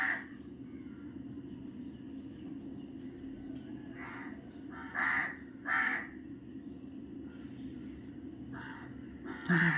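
Crows caw outdoors in several short bursts, one right after another, against a steady low hum in the background.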